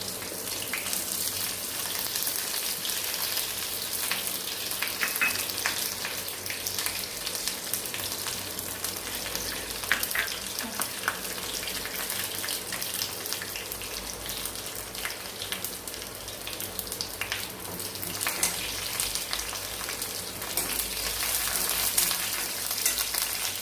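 Ginger, green and red chillies and curry leaves fry in oil with mustard seeds for lemon rice, giving a continuous close sizzle with scattered pops and spits throughout, with no one talking.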